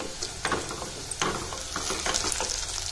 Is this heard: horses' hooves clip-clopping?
no